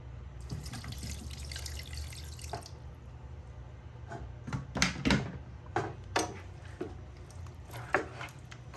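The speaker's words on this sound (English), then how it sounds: "and we're gonna add water." Water pours from a tap into a cooking pot for waterleaf soup, a steady rushing stream for the first few seconds, then scattered splashes, drips and clatters over a low background hum.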